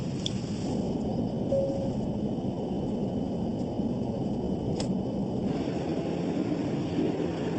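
Airplanes roar at Congonhas Airport in a steady, continuous engine rumble that holds at a constant level throughout, with no breaks.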